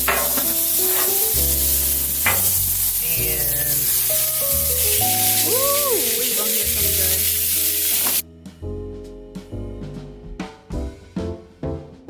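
Butter sizzles in a frying pan with a splash of Worcestershire, a steady hiss running under background music for about eight seconds before stopping abruptly.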